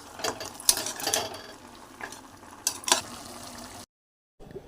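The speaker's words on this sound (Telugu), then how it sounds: "కొత్తిమీర టమాటా వేసుకుని సరి బాగా కలుపుతున్నాం" Coriander and tomato stirred into mutton paya curry in a pot, soft scraping and clinking strokes in an irregular rhythm with light sizzling beneath, close and quiet, ending in a short silence.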